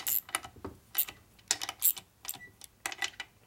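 Clicking ratchet-like bursts from a torque wrench tightening cylinder bolts in a cross pattern on a 1942 Harley WLA 45ci flathead side-valve engine during a rebuild; irregular sharp clicks and rasps, close and moderately loud, with no talk.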